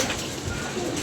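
Pigeons coo softly in a loft, a low continuous murmur of calls running steadily through the moment with no talking.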